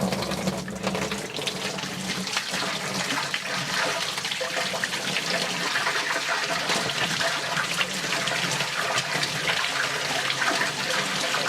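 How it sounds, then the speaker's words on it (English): Water from a tap pours steadily onto an Osight C flashlight in a sink, a continuous loud splashing hiss with no pauses throughout. "It's going to be all but submerged when I turn the water on"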